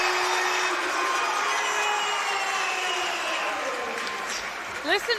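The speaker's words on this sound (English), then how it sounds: "Listen to this crowd." Basketball crowd in a university gym in Halifax, Nova Scotia, roaring in a loud sustained wash that slowly eases, with sneaker squeaks near the end.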